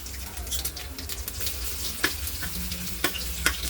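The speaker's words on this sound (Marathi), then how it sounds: "छान तळून घ्यायचा लसण।" Crushed garlic fries in hot oil with mustard seeds and cumin, a steady close sizzle broken by a few sharp spits and pops as the pan is stirred.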